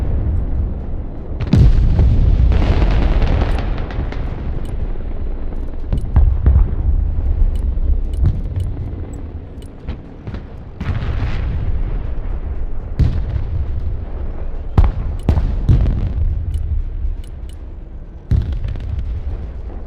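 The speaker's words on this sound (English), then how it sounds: "To say creeping barrage." A creeping artillery barrage in the game Broken Arrow, with a run of loud, heavy booms and rumbling blasts that come one after another with little pause, near and dense over a steady low roar.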